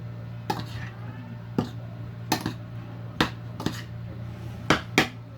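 A utensil crushes salted egg for a grilled milkfish dish, making about seven sharp, separate taps and knocks at an uneven pace over a steady low hum.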